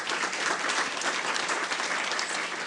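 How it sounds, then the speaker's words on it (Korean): Applause fills a forum hall after a presentation at the Jeju Forum, many hands clapping in a thick, continuous burst at close range with no talking. "좋은 발표해 주신 우리 오정훈 처장님께 다시 한번 큰 박수를 부탁드리겠습니다"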